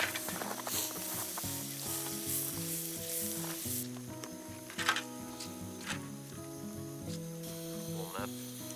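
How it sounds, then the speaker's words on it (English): Scrambled eggs cooking in butter outdoors on a frozen lake in northern Sweden, a close steady sizzle with soft stirring scrapes over faint background music. "I'm going to scramble some eggs from this bottle here, and a little bit of butter that's down there as well"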